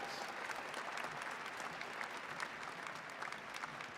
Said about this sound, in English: Please join me in a round of applause for the Master of Science in Information Technology graduates.